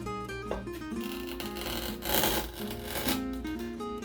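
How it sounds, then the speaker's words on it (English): An X-Acto knife scores through thin wood in a run of close, steady scraping and rasping strokes, heard alone without speech. "just using your X-Acto knife, you can cut through this reasonably easily"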